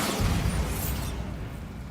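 A spell blast in a fantasy wizard video game bursts loud and broad at once, then rumbles and fades over about two seconds.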